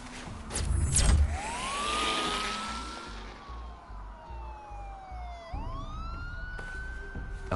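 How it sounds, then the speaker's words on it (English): Police car sirens wail in a Batman video game, a rising and falling electronic siren sweeping up and down, joined by a second siren, over a low rumbling engine and a pulsing background beat. "There are quite a few police cars convening on your location."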